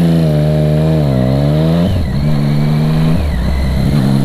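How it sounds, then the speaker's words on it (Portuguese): A Triumph Street Triple 675R motorcycle fitted with an Akrapovic exhaust revs loud and close, its engine pitch climbing and dipping through throttle blips before settling to a rough idle. "Chega a moto vibrar toda quando eu dou uma aceleradinha."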